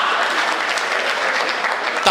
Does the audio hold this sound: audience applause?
yes